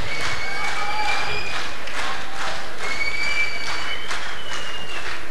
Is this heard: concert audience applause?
yes